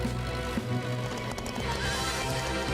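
Cartoon horses galloping with hooves clip-clopping in a fast steady rhythm, with whinnying layered over a busy, loud soundtrack of music and effects.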